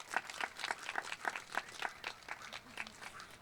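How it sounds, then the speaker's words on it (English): A round of applause at an outdoor Fourth of July Let Freedom Ring ceremony, many hands clapping in a fairly soft, moderately distant patter that thins toward the end. "big round of applause"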